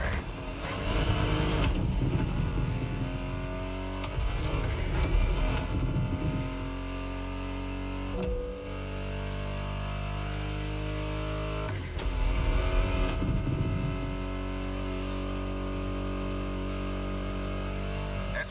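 Car engines in the racing game The Crew Motorfest hum and whine in changing tones over background music, with bursts of revving and a few abrupt cuts.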